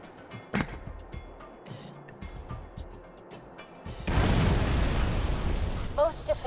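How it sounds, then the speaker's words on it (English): Cannon firing in the video game Borderlands 2, a loud sustained blast and roar erupting midway after quieter game sounds and talk, with crackling bursts trailing off. "Please fire the cannon again."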